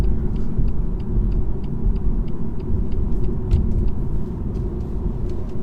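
A 2018 BMW 118i's small 136 hp engine hums steadily with low rumbling road noise throughout, no voices, the drone constant and close as the car drives along.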